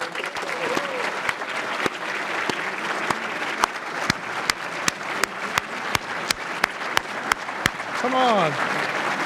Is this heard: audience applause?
yes